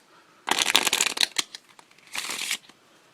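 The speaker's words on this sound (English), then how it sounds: "let's give this a quick shuffle" A deck of cards riffled in a fast burst of crisp flutter, a short pause, then a second quicker riffle, close and clear.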